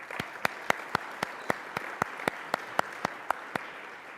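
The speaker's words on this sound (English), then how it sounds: "Let's give him an applause." Audience at a talk clapping to welcome a speaker, heard as a soft wash of applause with evenly spaced, distinct sharp claps ticking through it at a steady rhythm for about four seconds.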